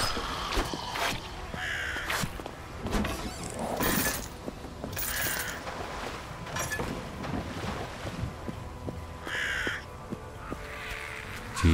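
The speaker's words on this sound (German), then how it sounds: "Die Raben der Hölle." Harsh raven caws recur in scattered bursts amid ambient game noise and clatter in the video game Vikings - Wolves of Midgard.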